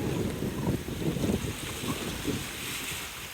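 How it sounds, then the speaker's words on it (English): Gusty wind blows across a rocky ocean shore where waves crash, a steady broadband rush with low rumbling buffets against the microphone, loud and continuous with no voices. "It's getting a little windy on this side."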